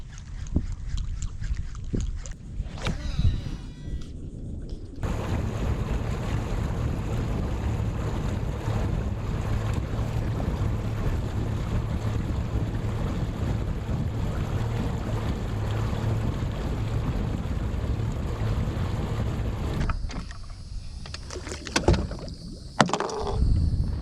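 A boat travelling on a river for a long day's fishing trip gives a steady, loud engine and water rumble, with wind buffeting the microphone and some rattling bumps near the start and end.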